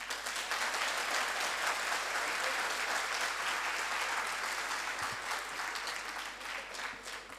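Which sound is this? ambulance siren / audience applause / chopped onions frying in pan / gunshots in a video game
audience applause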